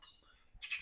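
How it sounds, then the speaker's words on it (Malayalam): Birds give a brief, faint burst of shrill squawking near the end of a quiet moment outdoors. "കിളികളൊക്കെ ഭയങ്കര അലമ്പാക്കുന്നുണ്ട്"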